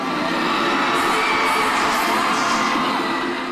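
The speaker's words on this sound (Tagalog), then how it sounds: "muling nabalot ng hiyawan ng buong arena" A packed arena crowd screams and cheers at a celebrity event as Maine Mendoza (Yaya Dub) walks out, a loud sustained roar of shrieks and whoops from many voices filling the space throughout.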